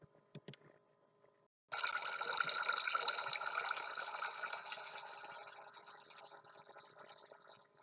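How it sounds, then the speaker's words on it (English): A fire hydrant and hose outdoor garden fountain runs with a steady, close splashing gush of water that starts abruptly after a brief quiet pause and slowly tapers toward the end. "a fire hydrant and hose outdoor water fountain"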